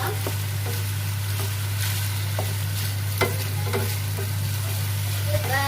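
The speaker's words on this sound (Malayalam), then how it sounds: "അതുകൊണ്ടാണ് ഞങ്ങൾ ഫ്രൈ ചെയ്തിട്ട് കറി വെക്കുന്നത്." Salmon fish pieces sizzle steadily in hot oil in a pan, with occasional sharp spatters and stirring clicks over a constant low hum.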